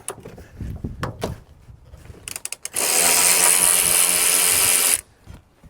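A power ratchet or impact tool breaking loose a bolt with an E18 socket on a BMW E9X N51/N52 starter: a few clanks and clicks, then a loud, steady two-second whir close by.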